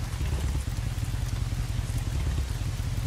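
Steady rain falling in the video game Days Gone, a dense continuous patter over a low rumbling background, loud and unbroken throughout with no talk.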